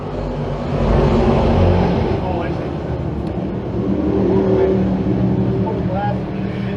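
Sportsman race cars roar off the green-light start at Can-Am Speedway, a loud, dense engine drone that rises and holds under an announcer's commentary.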